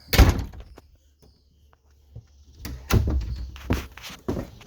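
RV bathroom door in a Keystone Avalanche 379BH travel trailer: a sharp thunk, a quiet pause with a faint click, then further knocks and bumps as it opens and closes close by.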